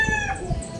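Chickens cluck briefly on a small farm, a short burst of close, lively hen calls over a steady background.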